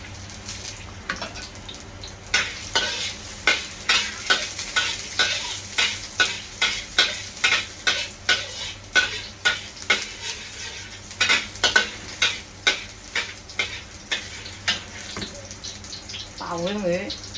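Spring onions stir-fried in hot oil for a braised abalone, sea cucumber and chicken dish, with a steady rhythm of close, sharp spatula scrapes against the pan over a faint sizzle.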